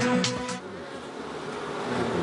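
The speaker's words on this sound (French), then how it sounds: "Le bourdonnement des abeilles," Honey bees buzzing in Provence, a steady, close, droning hum that holds throughout with a few sharper passes near the start.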